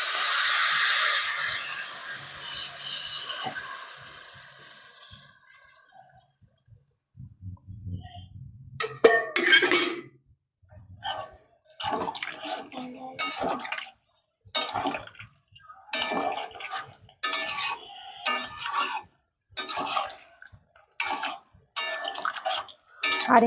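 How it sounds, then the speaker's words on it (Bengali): Water pours into a pot of jackfruit and fish-head curry for several seconds with a steady close rush, followed by quiet pauses and a string of sharp clinks and taps from the pot. "আর একটু জল দেব।"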